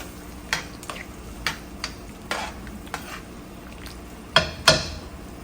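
Liver stirred with ketchup in a pot: quiet background with a series of separate spoon knocks and scrapes against the metal, the last two sharper and louder, no talking.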